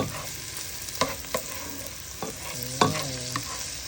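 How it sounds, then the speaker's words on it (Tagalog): Garlic, onion, tomato and ginger sauté in a pan as a spoon scrapes and stirs, soft sizzling running under a few distinct close clinks and scrapes. "ginigisa na natin yung ating garlic, onion, tomato, and the luya"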